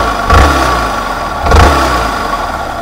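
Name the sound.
Yamaha MT-15 motorcycle engine revving, muffler covered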